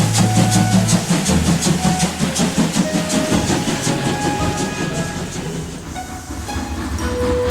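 Cartoon steam engine pulling into a station, a children's animation effect: loud continuous train rumble with rhythmic chuffing and clattering wheels, a low hiss at the start, steady throughout with no voices.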